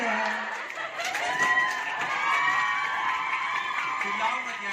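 Girls shout and cheer together at a school farewell, a dense, loud and continuous crowd of raised voices that fills the whole stretch without pause.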